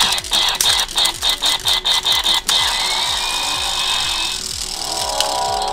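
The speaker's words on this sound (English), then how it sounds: "There's his drill." A Transformers Rescue Bots toy drill whirs in short repeated bursts, then runs in one steady, close mechanical buzz for several seconds.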